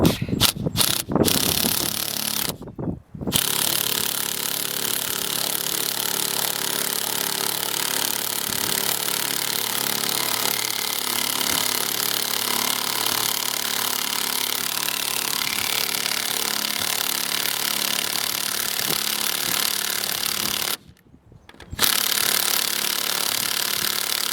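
Leg bolts being tightened on a Starlink roof mount: a long, steady run of close mechanical grinding and ratcheting that continues for about twenty seconds, with brief gaps near the start and again near the end, and no talking.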